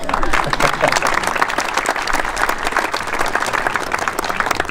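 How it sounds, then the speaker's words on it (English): Loud, sustained applause from an audience at a memorial event, dense clapping filling the whole stretch with some crowd murmur underneath. "go ahead, it's okay to clap."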